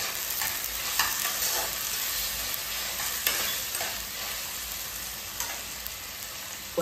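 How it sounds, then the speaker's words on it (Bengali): Food frying in a pan sizzles steadily while a spoon stirs it, with occasional scraping knocks against the pan. "একটু নেড়ে নেব।"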